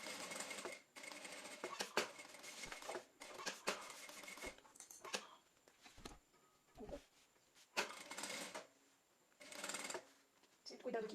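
A sewing machine stitches a seam around a rounded flap on a fabric folder, running in several close bursts of rapid rattling separated by short pauses, with someone talking in between.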